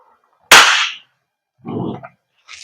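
An Umarex Glock 17 Gen 5 MOS gas blowback airsoft pistol fires a single sharp, loud crack close by, followed by a brief mechanical rattle and a faint clink.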